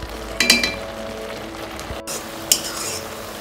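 Carrot halwa simmers in milk in a pan and gets an occasional stir. There are a couple of clinking scrapes of the spoon over a low, continuous bubbling hiss. The sound is close and has no talk.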